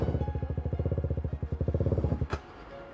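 A KTM Duke 390 motorcycle engine idles close by in a fast, even, pulsing thump, with small throttle rises that fade to quiet near the end.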